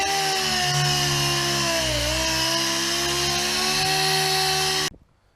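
A DA sander with 220 grit runs across a car hood, cutting back peeling clear coat with a loud, steady motor whine and hum that cuts off abruptly near the end.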